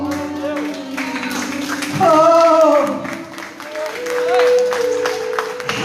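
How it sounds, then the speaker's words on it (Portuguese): A church congregation at a Portuguese-language prayer service claps, a scattered patter running throughout, while a voice calls out loudly over it. "Você pode aplaudir o Senhor?"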